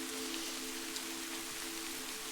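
Rain falls in a Hindi cartoon, a steady hiss of drops with a few faint patters, over a constant low tonal hum, with no voices.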